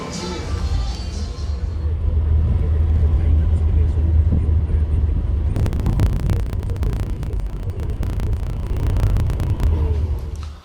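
A car travels from Guatapé toward Medellín in Colombia, its low engine rumble and road noise steady throughout, with heavier crackling road or wind noise in the second half.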